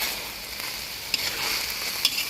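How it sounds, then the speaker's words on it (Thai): Red chillies and bell peppers stir-fried in a pan for pork with shrimp paste, giving a continuous hissing sizzle broken by two brief scrape clicks, with no voices. "พริกหยวกล้างแล้วนะ เดี๋ยวก็ค่อยๆผัดพอเริ่มผุดๆแล้วค่อยๆผัด"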